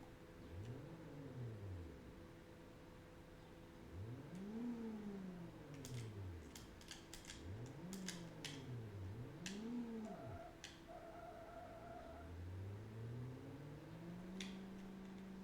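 Synthesized engine of a Ferrari or Lamborghini Diablo in the retro SNES racing game Test Drive 2, revving in repeated rising and falling arcs with gear shifts, steady and loud, with sharp ticking electronic blips scattered throughout and no talk.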